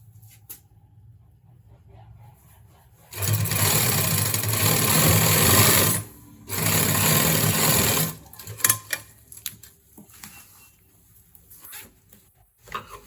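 Sewing machine stitching a zip into trousers, running in two steady bursts of about three and two seconds with a short pause between, close and fairly loud, followed by quieter handling clicks and rustles.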